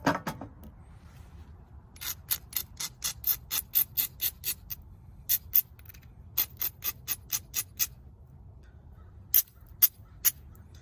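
Flint arrowhead blank being ground into shape, heard as a series of short, sharp, evenly spaced scraping strokes in several bursts, close up and with no talking.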